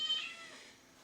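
Several cats meow in the background outdoors at a peaceful ranch, faint and distant, with a broad hiss of ambient noise and no talking.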